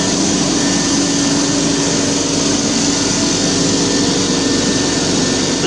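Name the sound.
exhaust blower fan running on laser engraver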